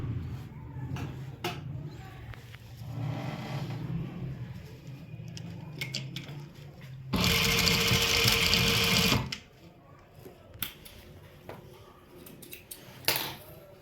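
A sewing machine stitching a trouser seam runs in one loud continuous burst of rapid whirring for about two seconds, surrounded by quieter handling clicks and fabric rustles.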